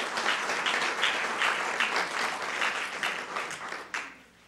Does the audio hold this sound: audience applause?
yes